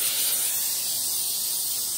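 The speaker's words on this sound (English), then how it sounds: "Now, we got the cooking spray. We're using coconut." A can of coconut cooking spray releases a steady, close hiss that lasts the full two seconds without a break.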